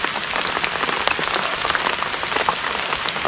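Rain falling steadily outdoors, a dense, even patter of drops on surfaces, loud and continuous throughout with no voices.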